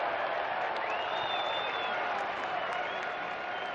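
Spectators at a football match applaud in a steady, moderately distant patter of clapping, with faint whistles and crowd noise mixed in and no close voices.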